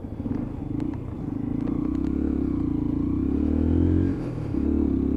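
A Lexmoto Assault 125cc motorcycle rides along a country road, its steady engine drone holding close and loud, with a brief dip in revs near the end before the note picks back up.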